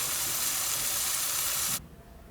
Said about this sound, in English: you can see that it's frying really well and it's leaving the sides